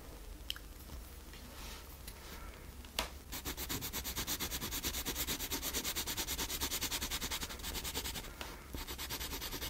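A pencil draws on paper close up, first in sparse scratches, then after a sharp tap settling into fast, steady rhythmic back-and-forth strokes that rasp softly and continuously; no one speaks.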